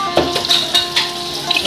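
A spoon works thick, sticky black glutinous rice biko around a pan, giving soft scraping and wet squelching strokes at an irregular rhythm, close and moderately loud, with a faint sizzle underneath.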